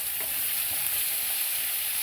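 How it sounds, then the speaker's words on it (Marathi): Onion fries with garlic in a pan for a quick wheat-bran vegetable dish. A dense, even sizzle hisses without letup for a couple of seconds, with no speech. "लसूण लाल झाला का त्याच्यात कांदा टाकून द्यायचा।"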